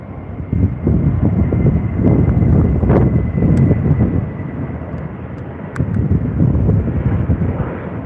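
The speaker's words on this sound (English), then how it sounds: "Here's our other Virgin 737 700." A Virgin Boeing 737-700 airliner produces a loud, rumbling engine roar that swells and fades slightly, with gusty wind noise buffeting the microphone.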